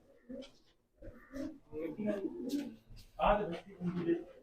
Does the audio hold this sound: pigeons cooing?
yes